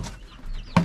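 A chicken on a farm in Nueva Ecija gives a single short, fairly close cluck after a moment of quiet outdoor background.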